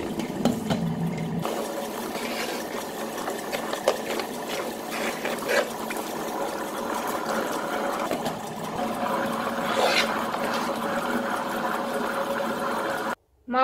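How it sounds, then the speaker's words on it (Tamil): A wet grinder grinding soaked urad dal and black rice into idli and dosa batter makes a steady churning, wet grinding drone with faint clattering, continuous and fairly loud, with no talking, then cuts off abruptly at the end. "உளுந்த அரிசி நல்லா ஊறிடுச்சு, கிரைண்டரில் சேர்த்து அரைச்சிடலாம்."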